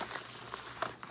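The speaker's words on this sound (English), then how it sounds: "roll the bags up like this, and stuff these" Plastic fishing bait bags crinkle softly as they are rolled up and stuffed away, a faint continuous rustle with a couple of sharper crackles up close.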